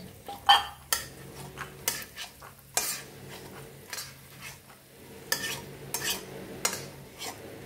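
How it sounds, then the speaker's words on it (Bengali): Peanuts fried in a pan and stirred, with a utensil scraping and clinking against the metal in irregular close bursts over a soft background sizzle. "পুরো ভালো করে ভেজে তুলব"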